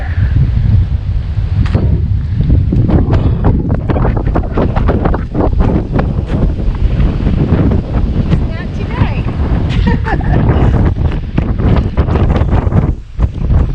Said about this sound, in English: Get a little windy. Yeah. Very windy here.